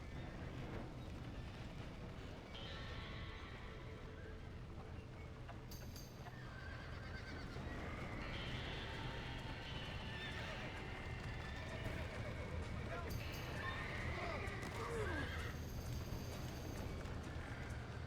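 Horses neigh and hooves clatter amid a busy, loud game soundscape in Red Dead Redemption, with shouting voices and constant background noise running throughout.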